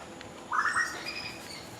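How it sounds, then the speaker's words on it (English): A bird calls from a tree near rabbits feeding on a breadfruit branch, giving one short, bright chirping burst followed by a fainter trailing call over a quiet outdoor background. "That is some bird in the tree."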